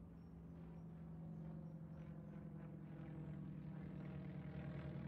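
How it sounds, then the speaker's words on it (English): A plane flies overhead in a flight simulator game, heard as a steady, faint, low engine drone that holds even throughout. "Here, a plane overflying"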